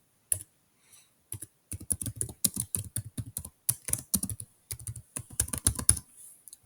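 Fingers tap out an IP address on a computer keyboard in quick, irregular bursts of close, crisp clicks, with a few lone taps first and then denser runs of keystrokes, and no talking.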